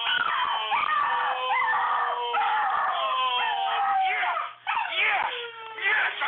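A dog howls loudly and continuously, its wavering, whining tones rising and falling in long overlapping cries close to the microphone, with a short break near the end.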